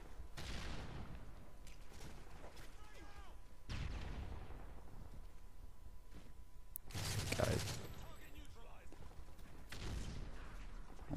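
Gunfire in a team deathmatch video game on the Arkaden map, with loud bursts of shots separated by quieter stretches, and someone talking over the action.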